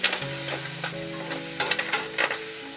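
Courgettes sizzle in a hot sauté pan, a steady frying hiss punctuated by several sharp clacks and stirring knocks, close and fairly loud, with no voices.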